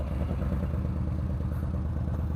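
Lexmoto motorcycle passing nearby on a street, a steady mid-pitched engine drone with rattling clatter, fairly loud and constant across the brief moment.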